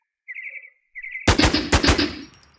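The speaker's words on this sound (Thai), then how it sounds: "เสร็จแล้วปุ๊บเนี่ยลองกดยิงดู" A short burst of rapid machine gun fire in the online game WarZ, loud and close, preceded by two faint chirping tones.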